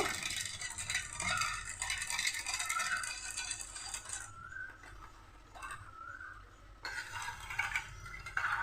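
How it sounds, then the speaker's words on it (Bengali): Sugar being stirred into milk for matka ice cream, a spoon rattling and clinking against the container in quick continuous strokes, close by, with a short quieter pause midway before the stirring resumes. "যতক্ষণ না দুধের সাথে পুরো চিনিটা গুলে যাচ্ছে ততক্ষণ মেশাতে থাকবো।"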